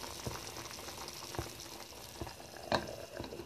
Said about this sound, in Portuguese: Molho. Tá cozinhando, gente, olha.